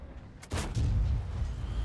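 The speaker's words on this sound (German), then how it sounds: "So, jetzt mal gucken, dass wir hier vielleicht noch einen Schuss setzen." A tank cannon firing in a tank video game, one sharp blast followed by a deep rumbling boom that stays loud as it trails off, with no talk.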